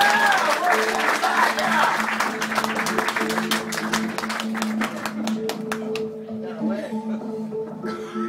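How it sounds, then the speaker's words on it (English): Audience at a live comedy hypnosis show in a small cabaret claps loudly and steadily for a volunteer, the dense patter thinning toward the end while a voice carries on over it. "Big round of applause for Samantha."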